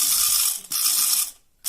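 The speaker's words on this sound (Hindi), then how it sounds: "तो चलिए मिक्सर चलाते हैं पहले," A small mixer powered by a repaired motorcycle battery runs close by with a whirring, rattling mechanical buzz, briefly dropping out twice before winding back up.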